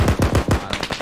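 Rapid automatic gunfire in the military video game Arma, a burst of loud, close shots in quick rhythm that thins toward the end.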